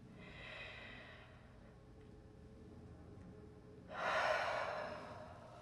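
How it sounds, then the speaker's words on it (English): A long, audible breath drawn in sharply during a breathwork session, loud and close, following an earlier softer breath and a quiet hold. "Forward and breathe in."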